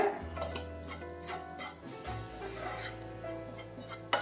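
A spoon scrapes and rubs against a pan while a roasting jackfruit seed mixture is stirred over low flame, a steady rasping scrape with soft ticks and a low hum underneath.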